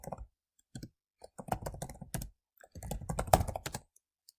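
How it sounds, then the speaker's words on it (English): Computer keyboard typing in short irregular bursts of crisp clicks, keys tapped in quick clusters with brief pauses between, close and fairly quiet with no talk. "I want to now type in Recycling Centre"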